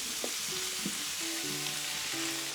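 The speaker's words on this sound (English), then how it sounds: "I'm going to let them sizzle together now for a little while" Zucchini and halved tomatoes sizzle in a frying pan, a steady loud hiss that continues throughout with a few soft clinks and faint tonal hums mixed in.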